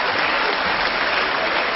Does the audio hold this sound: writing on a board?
no